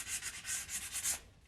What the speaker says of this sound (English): I'm going to take my sandpaper and then I'm just going to start sanding this down